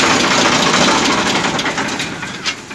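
A Ford 3610 tractor engine runs on a farm, a loud, steady rumbling drone with a rough mechanical clatter that holds throughout, easing slightly toward the end.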